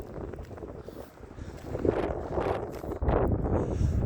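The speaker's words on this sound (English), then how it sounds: "I really like having my hood up, but it's kind of windy." Wind rumbles and buffets against the microphone in low, uneven gusts, swelling louder midway and again near the end.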